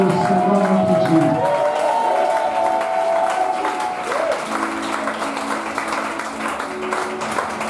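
A church congregation breaks into sustained applause, a dense, close wash of clapping that continues throughout while a few voices rise and fade underneath.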